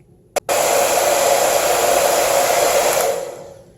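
An 1875W infrared ionic hair dryer switches on after a brief click and blows with a loud, steady whoosh for about three seconds, then winds down as it shuts off.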